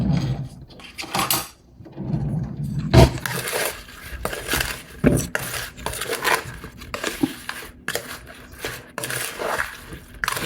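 Clattering scrapes and knocks of a utensil stirring new potatoes with Vegeta seasoning in a dish or pan, irregular and close, with a few louder clanks and no talk.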